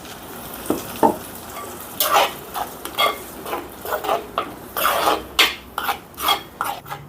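A spoon scrapes and stirs through thick paste in a pan, in a steady series of short strokes with a faint sizzle underneath; no voices.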